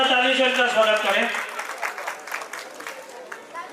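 A seated crowd at a cooperative society's annual function applauds to welcome guests, the clapping strongest early under a speaking voice, then thinning into scattered claps and background chatter.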